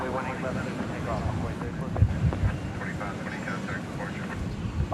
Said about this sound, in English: So that Airbus A319 was going to McAllen, Texas.